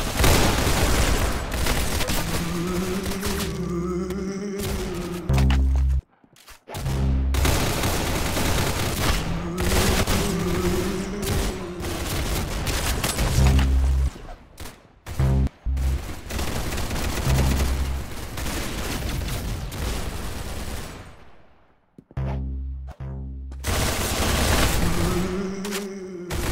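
Bursts of rapid gunfire from a Roblox Arsenal match ring out loud and close in repeated volleys, with brief pauses between strings of shots over constant game music.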